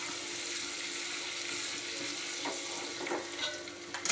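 Boiled eggs frying in hot masala for an egg curry give a dense, steady sizzle, with a few clicks of stirring near the end.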